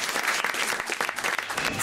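Studio audience applause on a French radio talk show, a steady dense wash of clapping filling the whole stretch with no voices over it.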